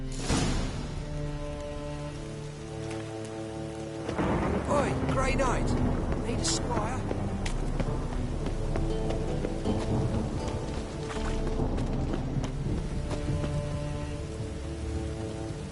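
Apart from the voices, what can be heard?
rain and thunder in video game The Witcher 3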